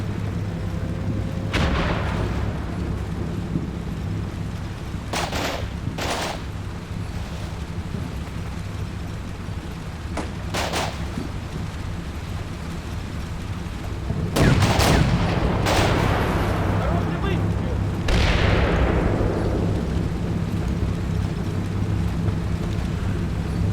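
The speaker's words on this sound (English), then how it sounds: "Tanks are opening up with machine gun fire." Tank machine-gun fire in the Combat Mission Black Sea war game: a steady, loud roar of battle noise, broken by several sharp bursts of gunfire and one louder, sweeping blast near the end.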